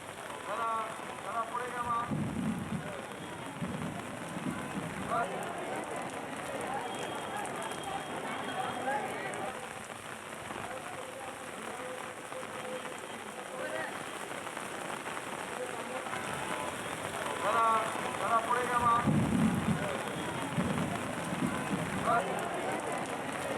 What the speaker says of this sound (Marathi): मुसळधार पावसाला सुरुवात झाली